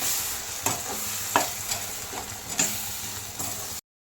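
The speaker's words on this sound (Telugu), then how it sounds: "ఇది నూనె పైకి వచ్చేదాకా తిప్పుకోవాలండి." Food fries in oil with masala added, stirred in a pan with a spoon: a constant sizzle broken by about five irregular scraping strokes, close and alone, ending abruptly.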